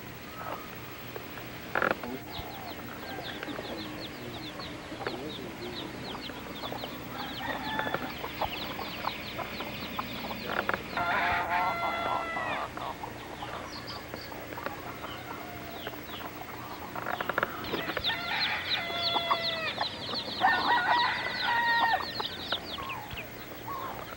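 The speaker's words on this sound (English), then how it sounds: "Birds on the walkway." Chickens cluck and a rooster crows on a walkway in Kauai, Hawaii, in 1996. Scattered clucks run through outdoor ambience, with denser bursts of calling around the middle and near the end.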